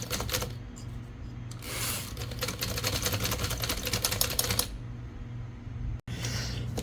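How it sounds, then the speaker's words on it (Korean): A repaired Remington Rand typewriter typing, with rapid, close mechanical key strikes clattering in bursts and a pause near the end before the clacking resumes. "이 타자기는 레밍턴 랜드 타자기인데 수리를 완료를 했어요."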